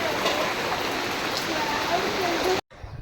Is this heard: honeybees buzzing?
no